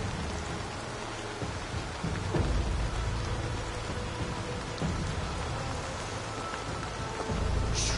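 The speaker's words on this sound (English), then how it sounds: "Storm brewing there." A heavy thunderstorm rages in the Assassin's Creed Valhalla video game, with steady dense rain and low rumbling thunder swelling at intervals throughout, and no voices.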